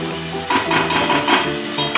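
Butter being stirred into a vegetarian rice dish in a pan, with a steady sizzle and a rhythmic series of spoon scrapes close by, no talking.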